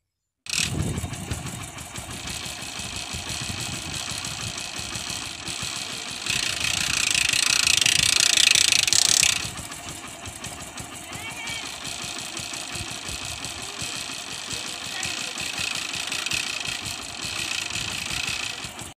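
A Hero Honda motorcycle engine churns with a steady mechanical rattle, swelling louder with a brighter ratcheting grind from a badly adjusted kick-start ratchet as the kick is pressed harder, before settling back.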